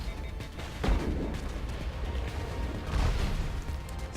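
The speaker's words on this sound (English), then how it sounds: "Who is even shooting from over there?" Gunfire in the Mass Effect video game, a steady rumble of distant booming shots and bursts under continuous low noise, with a couple of heavier thuds standing out.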